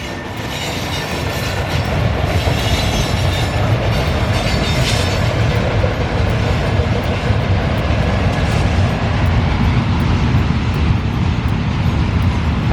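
A train rumbles close by across a railway bridge at the Pa Sak Jolasid Dam in Lopburi, Thailand, a steady heavy roar with rattling wheels and faint metallic squeals throughout.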